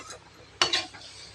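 A spoon stirs tamarind brinjal kuzhambu in a pot with a couple of sharp clinks and scrapes against the metal. Quiet pot noise surrounds them.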